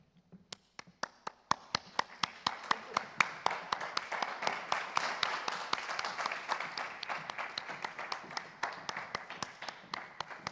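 An audience applauds a dolçaina and percussion group at a university concert, with dense, steady clapping that swells quickly and holds strong throughout, close and full.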